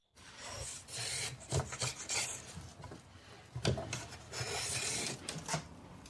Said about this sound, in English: He shaves carefully while checking the thickness together.